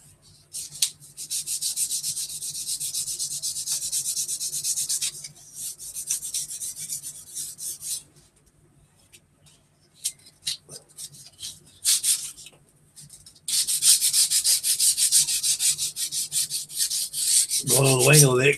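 Wet/dry sandpaper rubs across the wing of a model kit to knock down raised rivets, a raspy, close scratching in long steady bursts with short pauses between passes.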